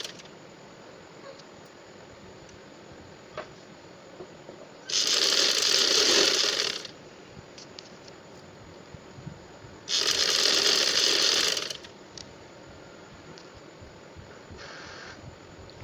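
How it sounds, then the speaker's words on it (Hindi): A sewing machine runs piping stitches along a trouser in two separate bursts of about two seconds each, close and clear, with quiet gaps and light handling noises between them. "मैं दूसरी साइड से पाइपिंग कर रही हूँ"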